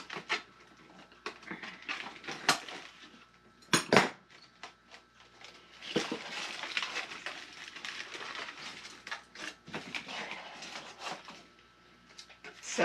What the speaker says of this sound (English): Finally getting to the bottom of the pot, which means I can actually cut it away from the plant.